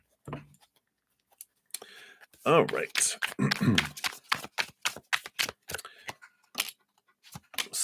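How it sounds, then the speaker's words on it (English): Tarot cards riffle and snap in quick, irregular bursts of crisp clicks close by, with a voice speaking briefly amid the shuffling. "I'm just going to take a shuffle here."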